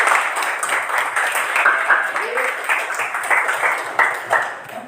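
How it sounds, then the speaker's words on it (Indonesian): A classroom of students claps for a classmate during a civics lesson, loud close rhythmic clapping with a few individual claps standing out and a brief voice partway through. "kasih tepuk tangan dulu untuk Satrio"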